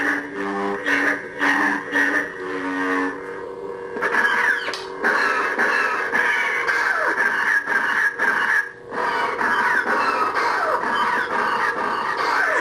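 Red-bladed lightsaber with an MHS Spark3 soundboard, real-swing motion and a Neopixel blade, swung slowly then faster: a loud continuous hum that swells and bends in pitch with each sweep, steady with no pauses.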